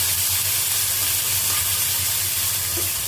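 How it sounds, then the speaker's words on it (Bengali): Onion and ginger-garlic paste frying in a pan give a steady, close sizzle with a low hum underneath, continuous and even throughout, with no talking. "এটা একটু ভাজা ভাজা করব"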